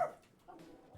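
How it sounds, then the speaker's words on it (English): A pet dog whimpers briefly in a quiet room, faint high whines with a soft yip near the start. "That is the dog. I need to let him out of my room."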